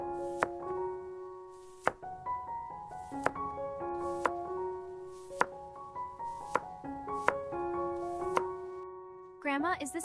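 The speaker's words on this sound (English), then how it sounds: "Cut it nice and thin." A knife chops vegetables thinly for kimchi, giving sharp, evenly spaced taps on a cutting board beneath a soft, melodic music track.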